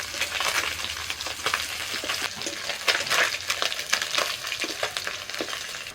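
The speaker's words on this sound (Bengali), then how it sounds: "এই মাছগুলো ভাজা হয়ে গেল মৌরলা মাছও ভাজা হলো" Mourala fish frying in hot oil in a wok, a steady dense crackling sizzle with scattered sharper pops running throughout, close and fairly loud with no voices.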